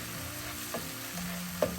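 Masala paste frying in hot oil for a fish curry, a steady close sizzle with a couple of brief stirring scrapes and clicks, no voice.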